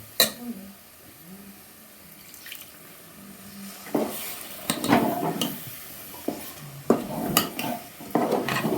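Metal utensil scraping and clanking against a pot of chicken curry on a wood-fired stove in bursts, quiet at first, then louder stirring strokes with occasional knocks.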